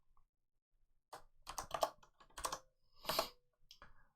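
Code typed on a computer keyboard in F#, close and clear keystrokes in a brisk, irregular run after a silent start, with short pauses between bursts and no speech.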